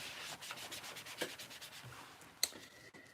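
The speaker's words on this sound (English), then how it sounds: "I'm going to use my microfiber cloth." A microfiber cloth rubs quickly back and forth across a craft mat in a rapid series of soft, close swishing strokes, with a small tap partway through.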